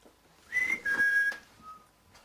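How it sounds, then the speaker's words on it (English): A person whistles a short tune of a few clear, high notes, fairly quiet and slightly distant, with a faint hiss of background noise. "If I whistle, can you copy me?"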